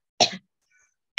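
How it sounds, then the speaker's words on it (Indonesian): A single short, sharp cough close to the microphone, followed by near silence and the onset of a second burst at the very end. "aku lagi batuk"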